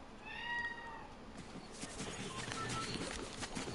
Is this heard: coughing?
no